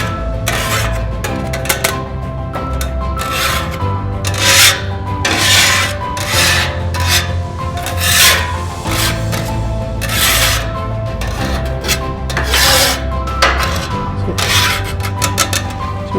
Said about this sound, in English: Now what we're going to do is we're going to get the scraper.